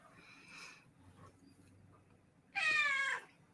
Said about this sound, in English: Hear the cat? Can you guys hear the cat?